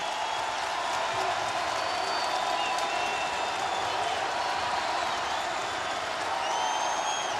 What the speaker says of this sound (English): This crowd comes alive again.